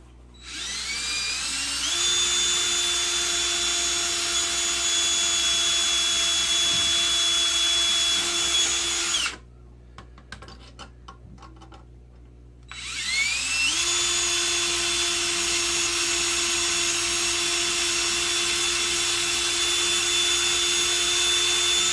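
A power drill bores a hole in wood while building a small homemade table saw, a steady high whine lasting several seconds, a brief pause with handling clatter, then another long drilling run.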